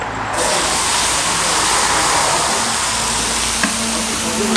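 Chicken doner fries on a hot sac griddle at a street food stall, a loud continuous sizzle close by, with a brief metallic tap near the end.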